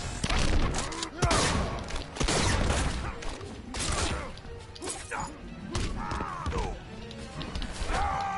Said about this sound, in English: Stop shooting at me, Patrick.